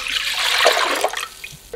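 Three cups of water are poured into a kitchen pan, a continuous close splashing rush that tapers off after about a second and a half.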